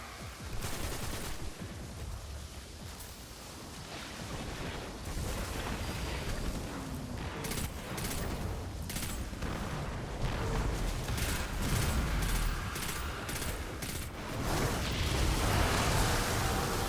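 Rocket launcher fire and explosions in Destiny 2, a sustained roaring barrage of blasts and gunfire that rolls on without a break and swells near the end, loud and close.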